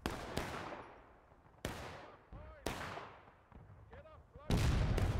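Artillery fire in the Civil War game War of Rights, several loud booming blasts arriving in irregular succession with long decaying rumbles and whistling shells between them, one heavy impact near the end.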